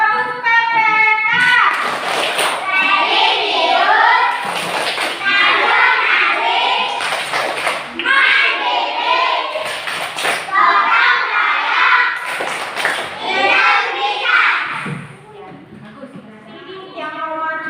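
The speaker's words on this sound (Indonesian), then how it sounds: "Yuk, tepuk PPK." An Indonesian primary class performs the PPK clap chant, children's voices shouting the rhythmic words together with sharp unison claps punctuating the chant at intervals, loud and close in a classroom.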